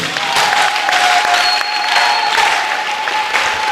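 A church congregation applauds the Lord during a prophetic worship service, a dense, sustained wash of clapping with a faint tonal hum running beneath it and no voice on top.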